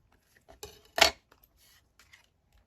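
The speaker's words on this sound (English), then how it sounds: "snip that off." Scissors snip once, crisp and close, through paper ephemera during a craft project, followed by a few faint clicks and handling taps in a quiet room.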